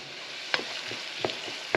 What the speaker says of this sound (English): I just want to actually sweat the vegetables just to soften them a little bit, but I don't want to add any color to that.